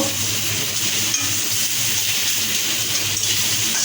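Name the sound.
fried eggs being added to noodles in pan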